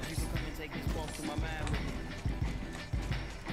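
Footsteps from the Apex Legends video game, rhythmic heavy thuds repeating steadily, close and fairly loud, with a voice talking over them.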